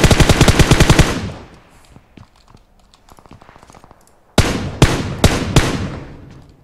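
Machine gun fire in the mobile battle royale game PUBG Mobile: a fast, loud automatic burst, then quieter distant shots, then several heavy close single reports.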